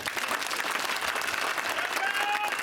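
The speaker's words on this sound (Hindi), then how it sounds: "अच्छा है तो ताली बजाओ।" A large outdoor crowd claps steadily at a Lok Sabha 2024 election rally in Tumen, Ashoknagar, a dense continuous roar of applause at full strength throughout, with a faint voice briefly audible beneath it.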